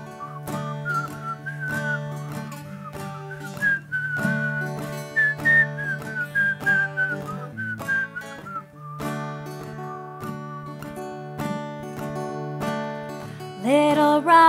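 A whistled tune imitating a robin's song in a children's song setting, a continuous melodic whistle with wavering pitch over a steady musical backing for most of the stretch.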